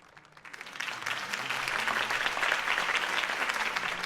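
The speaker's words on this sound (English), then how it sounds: "If only Mr. Wayne, my campaign's largest backer, could have heard that applause" A crowd applauds a campaign speech in Batman: The Telltale Series, the clapping swelling from a quiet start into a dense, sustained wash that stays close and loud throughout.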